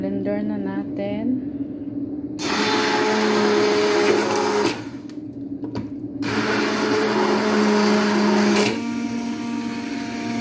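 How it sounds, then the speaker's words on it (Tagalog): A blender motor whirs loudly blending cooled potato soup in two long bursts with a short pause between them, steady and close. "I-blender na natin kasi malamig na rin siya."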